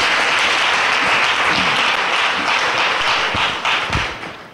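A church congregation at a worship service applauds in dense, sustained clapping that fills the room loudly for several seconds, then thins and fades toward the end.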